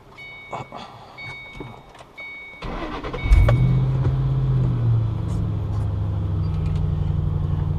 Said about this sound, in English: Start the car up.